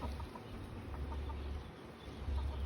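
Hens cluck softly and intermittently against a steady, noisy outdoor background, fairly faint and somewhat distant.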